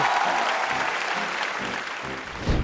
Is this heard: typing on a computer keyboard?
no